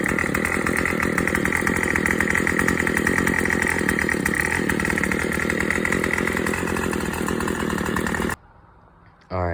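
A small engine, just cleaned out with carb cleaner sprayed front and back, runs steadily at a loud buzzing rev for several seconds close by, then cuts off abruptly to near silence before a brief restart.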